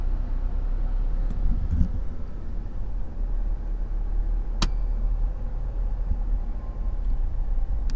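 A vehicle driving along a small, rough village road near Barabai, steady low engine rumble and road noise throughout with wind buffeting the microphone and a single sharp knock partway through.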